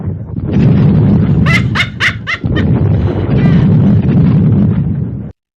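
A dog barks in a quick run of four or five sharp barks partway through. Loud, rough wind or rumbling noise nearly buries it before and after.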